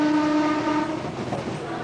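Trains running toward Calcutta rumble loudly and continuously, with a horn blaring at first over the rolling clatter of the cars.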